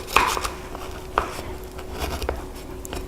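A knife cuts through Easter pastiera pie to take two slices at once, giving a few crisp taps and scraping strokes against the crust and plate, close and fairly soft.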